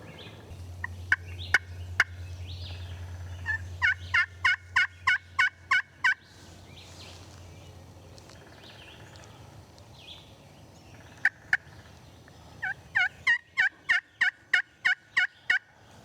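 Wild turkey gobbling from timber ridges: several rapid, rattling gobble bursts, loud and fairly close, with a distant low rumble underneath early on and quiet woodland between calls.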